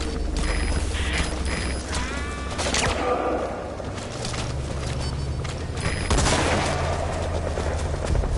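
A gunfire volley in the video game Metal Gear Solid 5, with dense bursts of shots and mechanical clatter running through the scene, loud and continuous, with rising and falling intensity.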